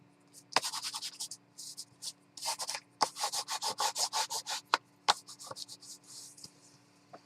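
A hand rubs and smooths paper flat in a journal, making close, rhythmic rubbing strokes in short bursts separated by brief pauses.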